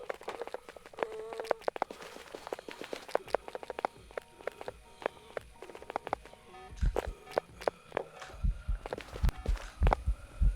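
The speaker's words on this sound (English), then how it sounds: "Listen to those footsteps." Footsteps in the horror game Phasmophobia, a run of quick, irregular taps and thuds close by, growing heavier and more rhythmic toward the end, over faint game ambience.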